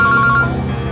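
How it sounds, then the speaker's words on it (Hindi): A mobile phone rings in a tense police-drama scene, a short bright electronic ringtone pulsing in quick repeated beeps for about half a second over a steady low background hum. "पास में खड़े हो तो फोन क्यों कर रहे हो?"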